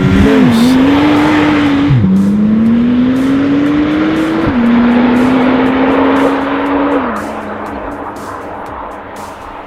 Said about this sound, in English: Little can prepare you for a 911 Turbo S's launch control in full swing.